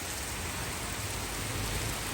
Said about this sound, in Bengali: অনেক বৃষ্টি পড়তেছে আলহামদুলিল্লাহ